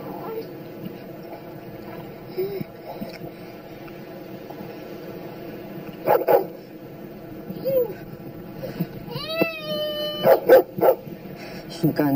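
Several dogs bark and yip in short bursts, some near and some farther off, over a low background hum.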